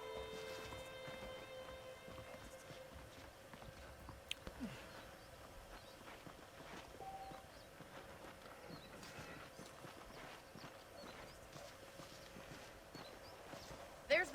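Horse hooves clip-clopping in the video game Red Dead Redemption, faint rhythmic footfalls under soft game ambience, quiet and distant.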